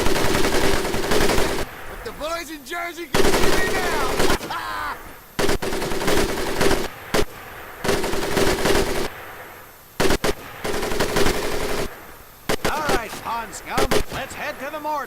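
Weapon firing at targets during boot camp in Medal of Honor Pacific Assault, loud bursts of rapid automatic fire separated by short gaps, with a few game sounds between bursts.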